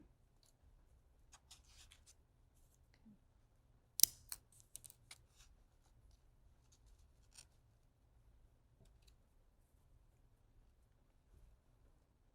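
Scissors cut paper pieces with faint, sparse snips and one sharper close snip, set against near silence with no talking.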